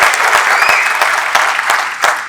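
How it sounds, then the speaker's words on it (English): Loud, close applause from a conference audience at an IEEE youth event, brisk steady clapping with a few sharper individual claps standing out, running throughout. "Give me a clap."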